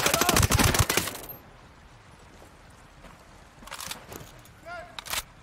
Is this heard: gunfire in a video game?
yes